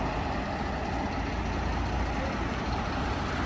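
A heavy truck's engine rumbles steadily up close while unloading a container house on a mountain site at 750 m altitude, a dense, continuous low drone with no voices over it.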